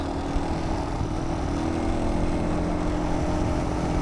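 Magnus Corda 200 (Lifan 200) Chinese enduro motorcycle with its original exhaust, started after several years off, running steadily with a loud, continuous low engine drone close by and no talk.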